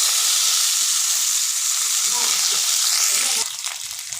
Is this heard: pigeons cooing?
no